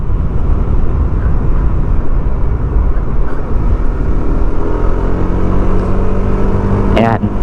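A Honda Click 160 scooter fitted with 17-gram roller weights accelerates loudly up close, with a steady engine drone and wind rumble, and someone speaks over the engine noise.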